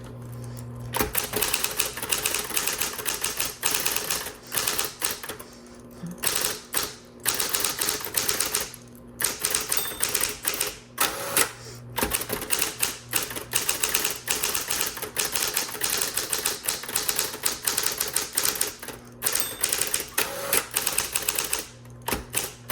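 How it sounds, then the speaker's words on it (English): Typing on a 1970s Electra 220 typewriter: close, busy bursts of sharp key strikes and clacks. Short pauses and carriage noises break up the lines, and no one talks. "I'm just gonna type a few lines for you so you can hear it"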